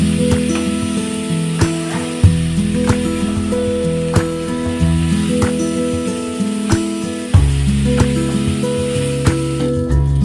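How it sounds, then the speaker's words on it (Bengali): Steady, loud hiss of soaked rice half-frying in a pan for beef khichuri, with a few sharper crackles, under continuous background music. "এবার আম্মু চালটাও হাফ ভাজা করে নেবে"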